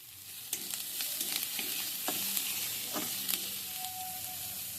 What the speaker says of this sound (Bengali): আর অল্প টমেটো কুচানো এবার এগুলো ভালো করে ভেজে নিচ্ছি